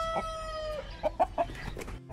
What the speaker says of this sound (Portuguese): Esse é um galo novo ainda, como você pode ver, com essas esporas